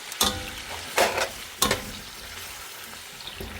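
Chicken pieces frying in hot oil in a pan, stirred in three distinct bursts of scraping and sizzle, close and moderately loud, with quieter hiss between for biryani.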